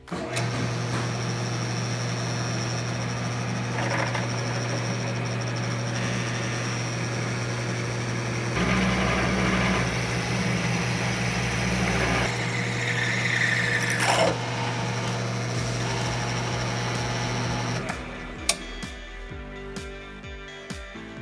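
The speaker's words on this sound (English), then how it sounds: "So we have finished drilling all 3 of the poles with the drill press" A drill press runs with a steady hum and constant low drone for a long stretch, its pitch shifting slightly as it drills through poles, then cuts off near the end.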